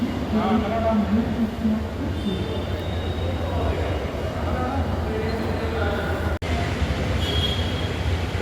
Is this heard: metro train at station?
yes